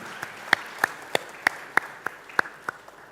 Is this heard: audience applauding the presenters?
yes